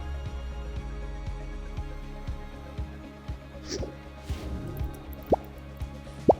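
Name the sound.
water dripping as bottle fills with oxyhydrogen gas from electrolyzer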